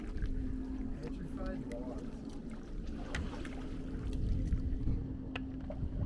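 A kayak paddled across Canyon Lake, with soft splashes and watery swishes over low wind rumble and a faint steady hum, while voices talk throughout.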